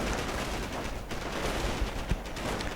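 Machine gun fire and flamethrowers in a video game battle, with rapid, overlapping bursts of gunfire and low thumps packed densely across a short stretch at moderate loudness, no voices.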